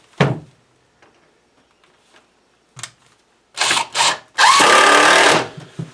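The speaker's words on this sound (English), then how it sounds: "we're going to screw this in place now on the mark that I laid out." Power drill driving screws into a wooden shelf piece in a workshop, heard as a few short bursts followed by one longer whirring run that winds down, with quiet pauses between.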